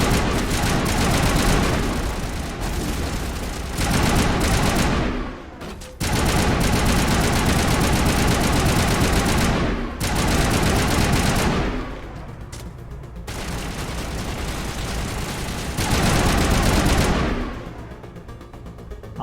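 Assault rifle fire in Mass Effect 1, long sustained automatic bursts roaring almost continuously, broken by brief pauses, loud and close with no talking over it.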